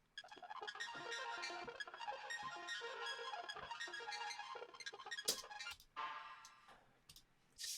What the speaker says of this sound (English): I just did a little bit of an arpeggiated sequence on my MIDI keyboard.